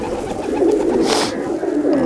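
Umbrella-type low flyer pigeons coo nearby in soft, rolling calls, a clear close bird sound over a short stretch without speech.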